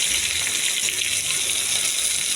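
Fish frying in a pan produces a loud, steady hiss and sizzle up close, filling the moment without a break.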